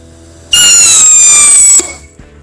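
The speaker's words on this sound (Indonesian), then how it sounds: "Selanjutnya kita nyalakan mercon roket warna merah." A red rocket firecracker set off inside a hole in the ground gives a loud, sustained whistling screech that holds for over a second, then cuts off abruptly and leaves a faint rumble behind.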